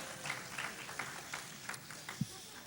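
Scattered, thin applause from an audience at a 1996 city State of the City address, a sparse patter of claps in a large room with a few louder single claps.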